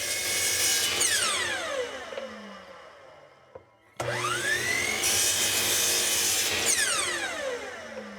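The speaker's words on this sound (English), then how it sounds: "I've got a stop block set up on my miter saw to cut them all the same length." A miter saw with a stop block cuts wooden vise jaws to length: two loud whining cuts in a row, each motor spinning up, biting through the wood, then winding down, separated by a brief near-silent pause.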